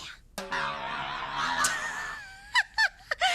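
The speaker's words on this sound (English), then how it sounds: "That sounds like a sick duck" A reedy, squawking honk like a sick duck blares for about two seconds, then three short nasal honks follow in quick succession.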